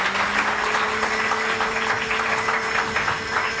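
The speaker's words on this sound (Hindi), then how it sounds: "अख्तर भाई के लिए प्लीज तालियां बजाइए।" Studio audience applause on a Pakistani morning television show, a dense continuous wash of clapping that holds steady and loud from start to finish with no talk over it.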